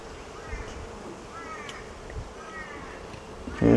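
Honey bees hum steadily around an opened hive during a split, a soft continuous drone with faint chirps, and a louder bump near the end.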